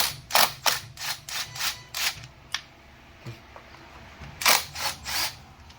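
Ratchet wrench loosening 8mm valve cover bolts on a 2006-2010 Mercury Milan / Ford Fusion 2.3L engine: clusters of quick, crisp clicking strokes up close, pausing briefly between bursts.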